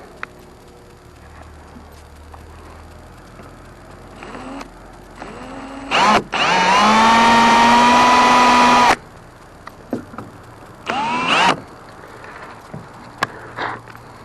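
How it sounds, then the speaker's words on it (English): A power drill bores a small hole with an eighth-inch bit for a 6-32 nut and bolt while fitting a bimini top on a Mako Pro Skiff 17, one long whining burst near and loud, with shorter bursts around it. "we're going to drill it out"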